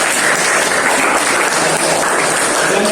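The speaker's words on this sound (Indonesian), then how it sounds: "Terima kasih tepuk tangan untuk Alifah." Classroom applause fills the space, a dense, even clatter of many hands clapping together, loud and sustained for a few seconds without audible talk.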